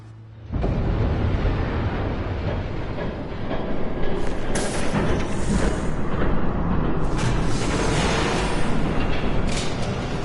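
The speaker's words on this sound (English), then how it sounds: "There's a train coming." A train in the Telltale Batman game bursts in loudly after a short quiet start, then rumbles and roars continuously close by, with a brief surge partway through, no talk.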